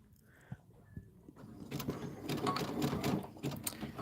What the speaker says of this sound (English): Now I'm going to sew to the T.